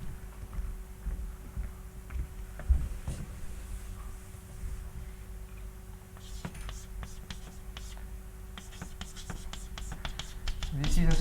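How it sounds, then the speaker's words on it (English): Chalk or pen scratches and taps in quick irregular strokes as a lecturer writes by hand during a mathematics lecture on stochastic conservation laws, fairly faint over a steady room hum. "I'll write it there."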